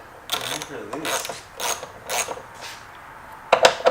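A ratchet works loose 10 millimeter bolts while a car is being lowered, with repeated bursts of quick clicking, each separated by short pauses and ending in a louder rattle of clicks.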